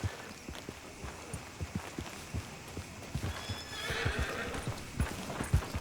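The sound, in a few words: horse neighing and hooves in Red Dead Redemption II video game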